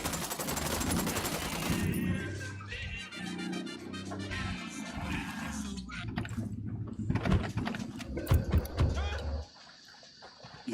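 Rapid automatic gunfire and scattered shots from a squad firing together in Ghost Recon Wildlands, dense and continuous with no gaps between bursts, cutting off abruptly near the end to leave quieter game ambience.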